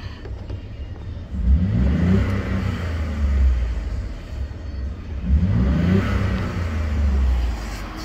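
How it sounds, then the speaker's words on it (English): A Ford F150 EcoBoost turbo engine revs hard twice, each rise cutting off into a turbo blow-off whoosh, with steady rumbling idle in between, close and fairly loud. "So at least I get the blow off sound."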